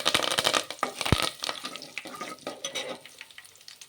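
Mustard seeds, cumin, chana dal, urad dal, a dried red chili and curry leaves crackle and sizzle in hot oil for a village-style bottle gourd tomato curry, with busy popping and spitting throughout and one sharp pop near the start.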